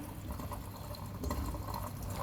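Steady rushing and gurgling of water filling an IFB front-load washing machine during a wash with clothes inside, continuous and fairly quiet, with a low mechanical hum underneath.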